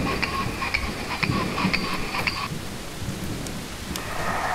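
Heavy rain pours steadily in the horror video game Boogeyman while thunder rumbles low beneath it, with a crackle of lightning in the first half and no one speaking.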